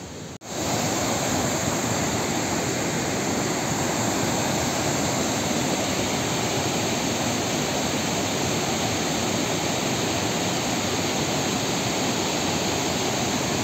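Steady, loud roar of a mountain stream and waterfalls rushing down a hillside gully in full flow, broadband and unbroken from start to finish with no voices.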